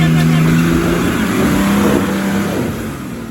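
A Toyota Hilux engine revs loud and close on a rocky track, holding a steady strong drone with rising and falling pitch before easing off slightly near the end.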